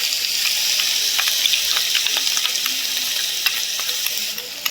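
A ground paste of onion and green chilli sautés in a pan with a bright, continuous hiss, steady and fairly loud, with scattered crackles and faint scraping as it is moved around.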